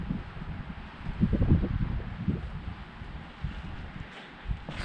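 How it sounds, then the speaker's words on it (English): Low, steady wind buffeting and roaring across the microphone in bitter cold around -24 degrees, swelling in a few gusts with no one speaking. "It's fairly windy too"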